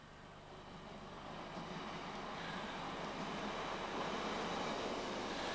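A Class 156 diesel train approaching Conwy Station on the North Wales Coast line, a broad rumble that swells steadily louder as it nears, with no voices.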